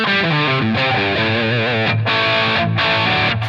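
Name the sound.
distorted electric guitar, Line 6 Helix brighter setting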